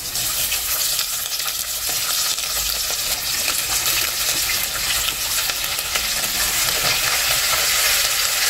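Fish frying in a hot pan for a home-cooked paksiw meal, a steady broadband sizzle and crackle that runs continuously throughout with no talking.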